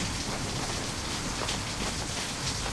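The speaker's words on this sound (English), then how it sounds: "You can hear the ambience outside, which is the rain." Steady rain pouring down in a video game ambience, a constant dense hiss of drops with no voices, the kind of outdoor downpour heard from inside.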